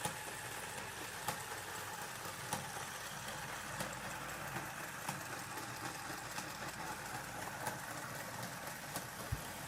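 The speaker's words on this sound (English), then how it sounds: "V8 engine, work of art." A V8 engine idles quietly with a low steady rumble, punctuated by faint regular ticks roughly every second.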